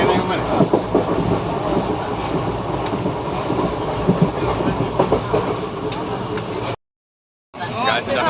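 Passenger train running on the Jorhat to Guwahati route, heard from inside a crowded carriage as a steady loud rumble with rhythmic clickety-clack of wheels, a brief dropout near the end, with people talking over it.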